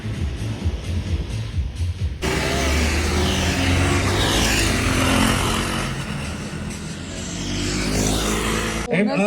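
An owners' race of third-generation KTM Duke motorcycles, mostly 390s, lining up for three laps at a Bengaluru track: a loud, sustained roar of engines revving and passing close by, rising and falling, preceded by quieter engine rumble.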